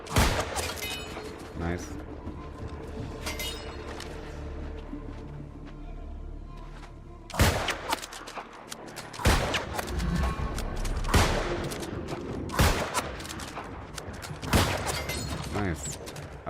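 Musket fire in New World: Aeternum, several loud, sharp booming shots spaced a second or two apart over a steady game background, with a voice speaking briefly.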